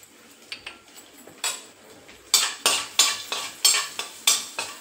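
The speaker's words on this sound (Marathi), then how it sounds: "हा खोबरा खीस आणि सारखं ढवळत राहायचंय आपल्याला" A spoon stirs dry fruits (cashews, almonds, pistachios) and grated coconut in a little ghee in a pan over a very low flame. Quiet scraping strokes start things off, then turn into a steady run of louder rhythmic stirs.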